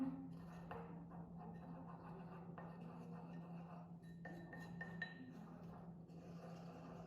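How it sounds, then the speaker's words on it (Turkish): A spoon clinks and scrapes against a bowl while stirring a starch and cucumber juice face mask, faint light taps and chimes over a low steady hum. "İyice karıştırıyoruz"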